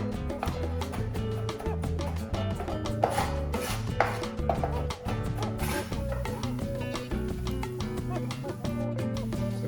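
A knife chops and crushes garlic on a cutting board, rapid rhythmic taps thudding close up, with background music or noise running underneath.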